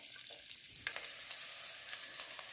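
Ginger and garlic frying in a spoonful of oil, giving a quiet, steady sizzle broken by small crackling pops, with no one talking.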